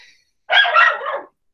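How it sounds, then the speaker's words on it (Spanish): A pet dog barks once at close range, a loud, clear bark rising and trailing off, alone in an otherwise quiet room. "A mí me tiene chato mi perra, así que está puro ladrando."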